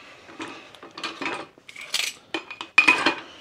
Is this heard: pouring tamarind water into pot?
no